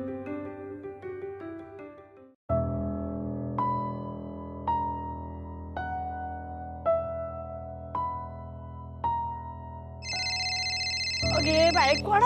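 A telephone in a Marathi TV serial scene rings near the end as a bright, insistent electronic trill over sustained background music with plucked notes.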